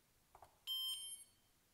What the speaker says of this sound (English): So that beep is indicating that we're changing flight modes.